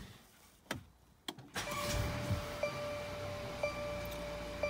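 A Mercedes-Benz GLC300 engine starting after a few clicks and thumps inside the car, settling into a steady, fairly quiet idle with a faint electronic tone chiming periodically over it.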